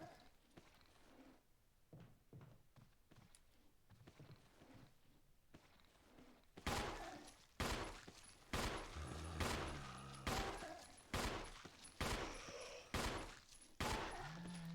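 Rapid bursts of handgun fire from Resident Evil 1 HD, a series of loud, sharp shots in the second half after a quieter stretch of footsteps and ambience, each crack spaced roughly a second apart.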